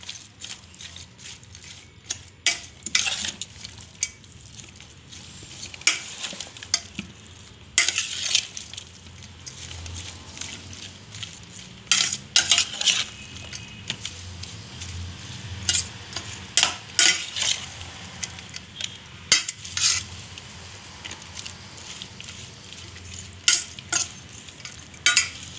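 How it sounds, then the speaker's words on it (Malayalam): A pork mixture is stirred and tossed together in a large vessel: repeated scraping and clattering strokes of a utensil against the metal come in irregular bursts over a soft background sizzle. "എല്ലാം കൂടി മിക്സ് ചെയ്യുക."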